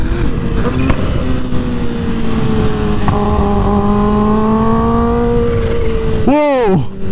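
A high-revving Kawasaki Ninja H2 motorcycle engine accelerates hard on a canyon road, its pitch climbing through gears, then a sharp rev sweep near the end, with wind noise close by.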